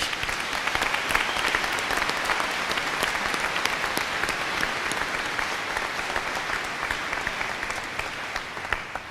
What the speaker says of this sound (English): Would you please give Congressman Obey one more round of applause for his outstanding speech?